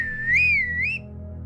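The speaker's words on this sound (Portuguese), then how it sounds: "Sheila ouviu uma vez mais o estranho assobio" A strange, eerie whistle, the kind heard in a spooky story about a masked figure seen in a bamboo grove, glides up and down in one long, wavering tone for about a second over a low steady hum.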